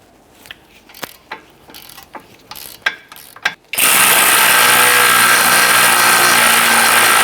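An 18mm socket wrench working loose brake bracket bolts on a 2014-2022 Chevrolet Trax: a series of sharp ratcheting clicks and clunks, then a sudden loud, steady whir like a power tool running continuously.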